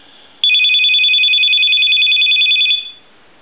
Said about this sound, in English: I'm going to ring the unit